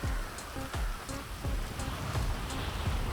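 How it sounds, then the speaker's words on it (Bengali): Rain in the game GTA V falls on a beach as a soft, even patter, quite faint, with repeated low thuds at irregular intervals under the steady shower. "ভালোই বৃষ্টি হচ্ছে।"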